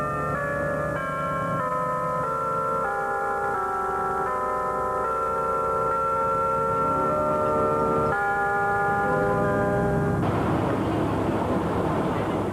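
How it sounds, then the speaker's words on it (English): Clock tower chimes ringing over a quiet downtown Coalinga, a sequence of sustained bell tones that overlap and ring on, then a steady background rumble like a passing vehicle near the end. "Only the clock tower chimes break the silence."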